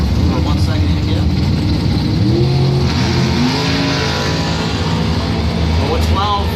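Drag race cars, a Chevrolet S10 and a Camaro, roar down the strip at a points event, loud engine revving and rising whine under an announcer's continuous commentary.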